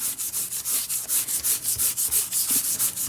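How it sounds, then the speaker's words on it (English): Gold paint being rubbed by hand into a hardbound journal cover makes quick, even back-and-forth strokes, roughly five per second, close and fairly loud, with no talking. "I am squeezing on some of that gold. And I am just rubbing it in."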